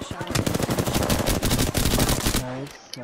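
Automatic gunfire in Apex Legends, with dense rapid bursts firing loud and close for over two seconds, then cutting off into quieter game sounds.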